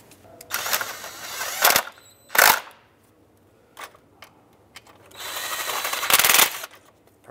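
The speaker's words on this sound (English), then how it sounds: "you can start in your two bolts. And you can snug these up." Power drill or driver snugging the two bolts on a camshaft position sensor of a 2003-09 Toyota 4Runner, several short whirring bursts separated by pauses, close and fairly loud with no talking.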